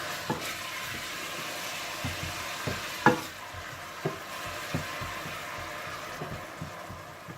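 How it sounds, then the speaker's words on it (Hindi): Ground onion frying in hot oil with a steady sizzle, occasional scraping stirs and soft clicks of a utensil against the pan, no voices. "इसमें आप पिसी हुई प्याज डालकर भून लीजिए।"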